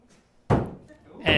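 A thrown axe strikes a wooden target with a sharp, solid thunk at an axe throwing league match, followed by a second impact and voices talking in the background.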